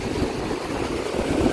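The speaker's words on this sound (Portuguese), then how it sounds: "o mar tá bem mais agitado agora, ó." Rough, agitated sea waves at a beach in Sítio do Conde, Bahia, a continuous loud wash of surf with churning low rumble and no pauses, heard close and alone.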